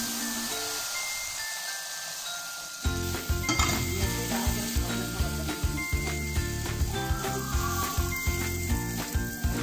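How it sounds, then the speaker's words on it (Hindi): A tadka of hot oil and spices hits karhi pakora curry with a sudden loud sizzle that keeps hissing steadily, with occasional clinks of a spoon against the pan. "अब हम इसमें तड़का लगाएंगे।"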